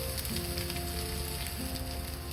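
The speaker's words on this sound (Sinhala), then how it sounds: "දැන් මේ ටිකක් ෆ්‍රයි කරගන්න ඕනේ" Curry leaves, mustard seeds, fenugreek, cinnamon, ginger, garlic and cardamom frying in oil for a Sri Lankan prawn curry give off a dense, even crackling sizzle, close and steady, with no talk.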